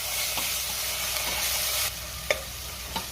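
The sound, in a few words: frying green chili and ginger garlic paste with onion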